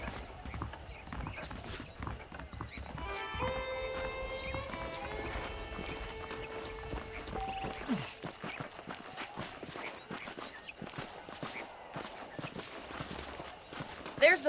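Horses in the Red Dead Redemption western game walk at an even clip-clop, hooves thudding steadily and fairly close, with a brief tonal whinny-like sound early on and low background ambience.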